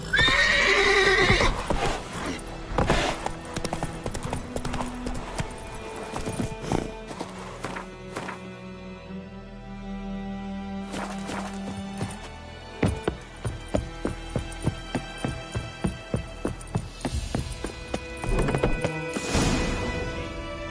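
Roach, the horse from the Witcher 3 video game, gallops with steady rhythmic clip-clop hoofbeats and lets out a loud whinny, set against a game's music and ambient sounds.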